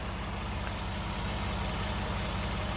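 A car engine idles steadily with a low, constant rumble and faint mechanical vibration, unchanging throughout, no voices.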